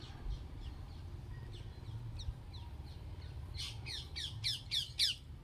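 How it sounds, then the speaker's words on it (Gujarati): A parrot squawks out on a farm, first a few faint scattered calls, then a quick run of loud, harsh, rapid squawks close by near the end. "વાહ પોપટ વાહ"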